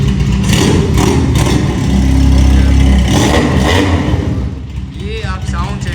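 A sports bike in Karachi starts and its engine revs loudly up close, a sustained throaty roar that swells and settles, with people talking nearby.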